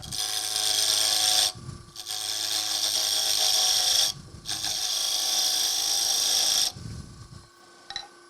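A tool cuts a tenon on a wooden lidded box spinning on a wood lathe, making loud hissing, scraping passes broken by brief pauses, with the motor's hum audible in the gaps.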